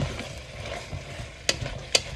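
Yellow onions being stirred in a pot for French onion soup, with a low cooking hiss and two sharp utensil scrapes near the end, no talking.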